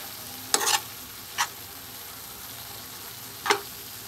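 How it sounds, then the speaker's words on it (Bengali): Sweet saffron-coloured rice (zarda) with raisins, peanuts and pistachios being stirred in a pan, three short scraping stirs standing out over a faint low sizzle, close and with no talking. "কিছুক্ষণ নেড়ে চেড়ে রান্না করে নেব"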